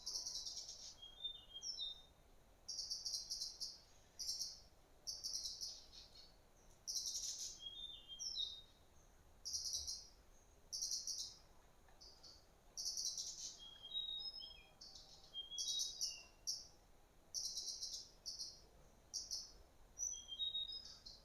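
Birds chirping close to a house, repeated bright tweets in short bursts with brief pauses, steady and fairly near with no voices.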